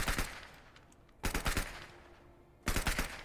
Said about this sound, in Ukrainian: Да вони стріляють.